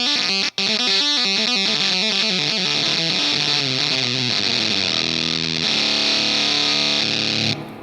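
Fast electric guitar runs through a ZVEX Reverse Fuzz Factory pedal, a loud, heavily distorted stream of rapid fuzzy notes that smears into a dense sustained roar near the end.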